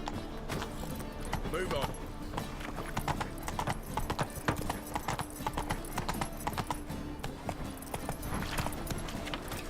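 Roach the horse's hooves clip-clopping at a steady trot in The Witcher video game, rhythmic clear hoofbeats throughout with a brief spoken line from a man over them.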